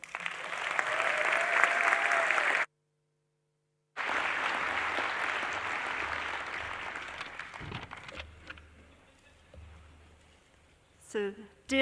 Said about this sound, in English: Please, a round of applause for Diana Worrell